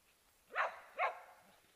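An overheated dog on a 32-degree day gives two sharp barks about half a second apart, moderately close, against a quiet outdoor background.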